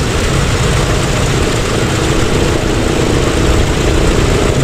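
Douglas DC-6 piston propeller engine running after start-up in a flight simulator, a loud, steady low droning rumble with an even idle throb throughout and no talking.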